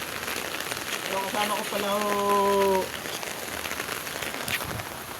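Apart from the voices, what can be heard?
rain falling on surface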